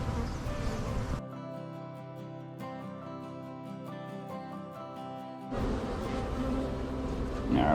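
Honey bees buzz around an opened hive during an inspection, a close, dense humming drone that continues steadily throughout, broken by a brief noisy rustle at the start and end.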